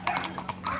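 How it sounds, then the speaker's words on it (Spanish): Horse hooves clip-clopping near a village in Juchipila, Zacatecas, quick uneven clops over less than a second, close by, with a brief whinny-like tone. "A grabar el ruido de los caballos."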